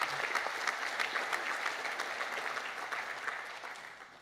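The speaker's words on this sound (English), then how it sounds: "there's a lot of round of applause" Sustained applause from an audience at a volunteer recognition awards ceremony in Greater Shepparton, a dense steady wash of many hands clapping that fades slightly toward the end, with no voices over it.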